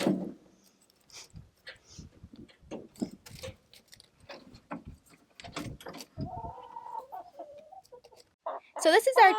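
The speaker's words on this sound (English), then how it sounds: "So this is our chicken tractor and our chickens who are balking." Chickens in a chicken tractor cluck and murmur in short bursts close by, with a higher squawk near the end and some scattered pecking noises.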